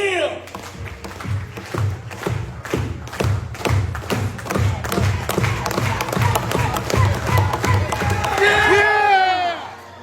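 A high school career symposium audience claps in rhythmic unison with thumping beats, building into cheering and whoops toward the end, with voices shouting over the crowd.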